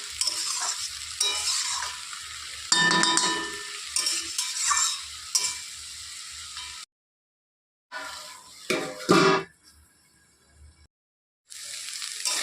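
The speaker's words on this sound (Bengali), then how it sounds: "একটু নেড়ে চেড়ে দিচ্ছি" Potatoes and leafy greens are stirred in a cooking pan: scraping and clattering of a utensil over soft sizzling, in bursts separated by brief silent gaps.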